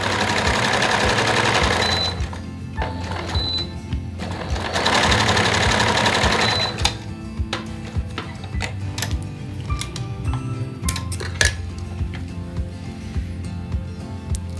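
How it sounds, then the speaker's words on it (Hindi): A sewing machine stitches the hem of a kameez with piping, running loud and close in two long continuous bursts, then shifting to slower, irregular ticking and clicking as the fabric is adjusted. "सिलाई मैंने लगा ली है।"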